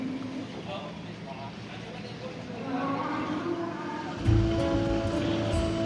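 Sea waves lapping at Padangbai harbor in Bali, a steady watery wash with a louder surge near the end, heard outdoors under a faint background rumble.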